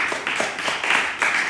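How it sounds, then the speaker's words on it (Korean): Audience in a church young-adults Sunday worship service clapping in a brief, steady burst of applause, close and fairly loud, with no talking over it. "박수 한번 주세요."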